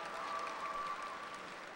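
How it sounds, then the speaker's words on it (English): Applause from the Como Park Senior High School class of 2018 at their graduation ceremony, a steady, dense wash of clapping held at an even level throughout, sounding somewhat distant. "Give yourselves a round of applause."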